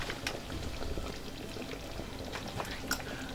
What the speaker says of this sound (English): my dried uziza has been neatly cleaned, so I'm just going to pour it into the soup